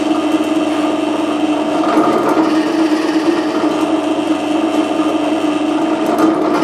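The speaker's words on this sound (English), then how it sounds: "I'm going to be using this lip and spur bit to do my cutting." A drill press boring into wood with a lip and spur bit gives a steady, loud whine and grinding hum that runs evenly throughout, with a slight shift in load partway through.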